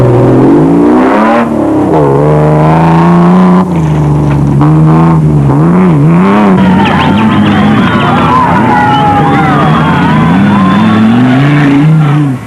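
Off-road racing vehicles at the Baberspan 500 race roar and rev continuously, engine pitch rising and falling through gear changes, loud and close, with faint crowd or voice sounds underneath.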